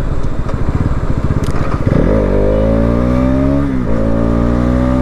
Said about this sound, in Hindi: आप क्लच लेस डाउन शिफ्ट कर सकते हैं अपनी बाइक में